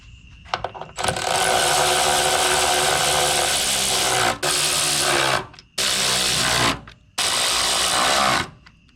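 A power tool runs on an S14 car, bolting on a part: a loud, continuous buzzing whir in four bursts separated by short pauses, with a few clicks before the first run and no talking.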